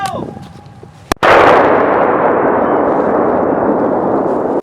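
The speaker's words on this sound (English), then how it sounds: "it's a tool that 12 Bravos use when they need to cut off a road by blowing it up" A military cratering charge detonated to blow up a road, a short sharp report then a massive roaring blast that rumbles on loudly for several seconds, with faint voices before it.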